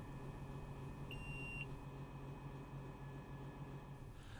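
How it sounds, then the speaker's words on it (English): A single short electronic beep sounds from a control button in the cab of a K loader, faint and brief over a steady low machine hum. "Press and hold the button until it beeps."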